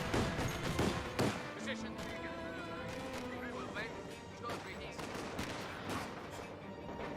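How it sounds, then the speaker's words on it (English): Half-track gunfire in Company of Heroes 2, rapid bursts of machine-gun fire rattling out at intervals amid distant explosions and battlefield noise. Moderately distant, mixed with a busy wartime soundscape. "Black half track firing away."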